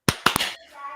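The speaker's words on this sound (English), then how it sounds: "let's all get one clap for Chris, all on my count of 3" At a live podcast recording, an audience claps together in one sharp burst, a few slightly staggered hits close together, followed by a brief murmur of voices.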